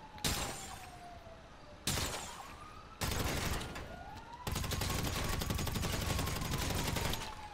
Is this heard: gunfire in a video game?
yes